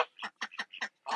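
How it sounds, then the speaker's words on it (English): Several farm ducks quack in a quick series of short, nasal calls, about six bursts close by with brief gaps between them. "There's our ducks."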